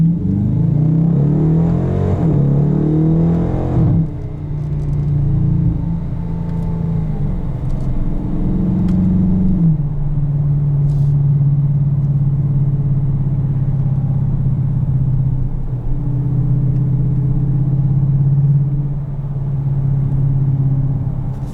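A 2020 Dodge Challenger R/T Shaker 50th Anniversary engine roars loudly from the driver's seat as it pulls hard through the gears, with brief pops and cracks at each shift change and a steady drone between.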